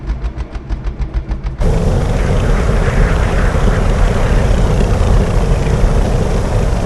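A fan-film prisoner transport spaceship flies past, starting as a pulsing, throbbing engine drone and then jumping into a dense, loud, continuous roar that holds steady to the end.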